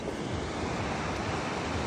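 Ocean surf and wind on the Norwegian coast, seen from high above the sea: a steady, loud, broadband wash of waves and gusting air that holds without a break.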